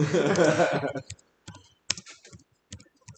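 Scattered computer keyboard keystrokes come in short clicky bursts after a stretch of low talking, the taps sparse and irregular, fairly close and quiet.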